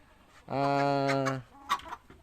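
A single drawn-out chicken call sounds nearby on a farm in hot, dry weather, followed by a couple of short clucks.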